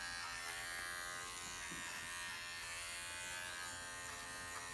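Electric dog clippers fitted with a size 15 blade trim a poodle's paws, giving a steady, close, continuous buzz with no talk.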